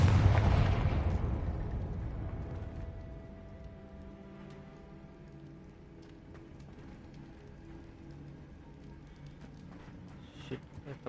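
A Confringo fire spell explodes in Hogwarts Legacy with a deep, loud boom at the start that rolls off into a long fading rumble, leaving quiet game ambience and faint clicks afterward.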